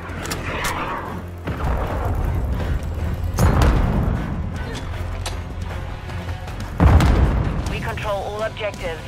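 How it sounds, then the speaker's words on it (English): Cruise missile blasts in Call of Duty Modern Warfare II boom out in heavy bursts amid steady battlefield gunfire and rumble, with voices calling out over the combat. "Hostiles launched a cruise missile"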